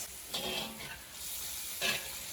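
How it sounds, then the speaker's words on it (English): Turmeric powder hitting hot oil in a pan with chicken for a keto chicken curry, a soft, low hiss with two brief louder bursts of sizzle, close and quiet, without talking. "I'm going to add 1 teaspoon of turmeric powder. Just kind of let that hit the oil for a bit."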